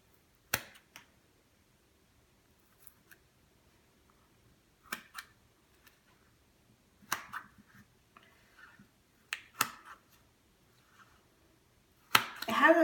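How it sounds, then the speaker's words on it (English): Fabric scissors snipping through a squishy stress ball, a handful of crisp, sharp snaps spread out with quiet pauses between them and a faster flurry of cuts at the end, close and alone. "It has a very nice kind of like crisp snapping sound when it cuts into it"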